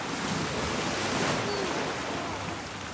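Ocean waves wash onto a beach in Fiji at sunset as the tide comes in, a steady, loud, broadband roar of surf that fills the whole stretch without letup.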